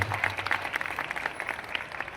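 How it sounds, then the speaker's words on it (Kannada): An audience at a music event in Bengaluru clapping to welcome a guru onto the stage, a brief, moderately loud burst of scattered applause. "ಅವರಿಗೆ ಒಂದು ಪ್ರೀತಿಯ ಚಪ್ಪಾಳೆ ಮೂಲಕ ಈ ಒಂದು ಕಾರ್ಯಕ್ರಮಕ್ಕೆ ಸ್ವಾಗತವನ್ನು ಕೊಡೋಣ"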